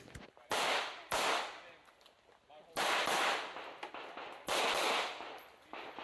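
Pistol shots crack in quick bursts at a USPSA shooting stage: a pair of shots, a pause, then several more clusters, each with a sharp, loud onset and a short ringing decay. A voice talks faintly between them.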